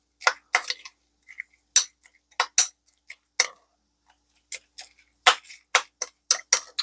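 A spoon mixes crushed shrimp crackers into a filling in a bowl, making close, sharp clinks and scraping ticks in irregular bursts separated by silence, with no talking.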